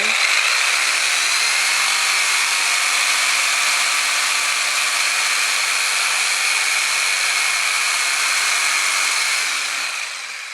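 A steady, loud whine of a Triton TJS001 jigsaw cutting wood, running continuously for about ten seconds, then easing off slightly at the end.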